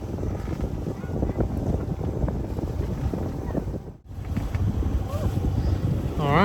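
Wind blows around a sailing boat off Nazaré, buffeting the microphone in a steady gusty rush that dips briefly midway and then returns at full strength.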